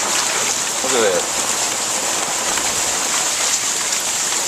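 Heavy rain falls steadily on an outdoor patio during a rainstorm, a dense continuous patter that stays close and even throughout with no talk.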